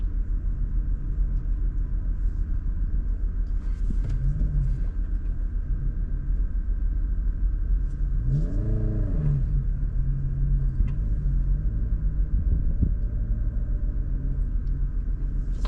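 A Honda Passport or dual-range Subaru engine rumbles loud and steady while reversing down a steep off-road trail at Bill Moore Lake, with a brief rising rev in the middle and constant low drone throughout.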